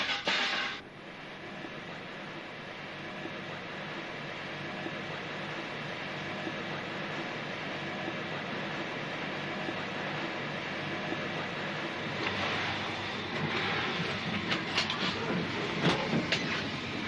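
A British Rail train runs between Leeds and London, a steady rumbling roar with faint clickety-clack of wheels, continuous and fairly close, with a brief louder burst at the start and some sharper rattles near the end.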